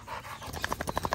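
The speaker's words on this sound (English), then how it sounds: "No wonder dogs are going crazy at you." Shelter dogs panting hard while playing: quick, rhythmic breathy huffs that get stronger and more regular toward the end, close by, with no voices.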